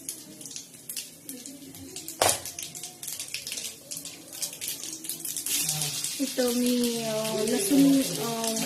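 Smashed garlic sizzles in hot oil in a home kitchen pan, giving a steady, hissing crackle that swells after a sharp clatter; someone talks over the second half.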